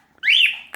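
A quaker parrot gives one loud, close whistling call that rises and then slides down, clear against silence.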